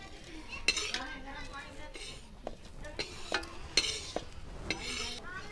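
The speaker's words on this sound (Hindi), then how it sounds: "अलसी को हम ऐसे ही भूनेंगे।" Flaxseed being dry-roasted in a pan for a village-style postpartum recipe, with a spoon scraping and clinking against the metal in repeated stirring strokes over a faint background hiss, moderately close and fairly quiet.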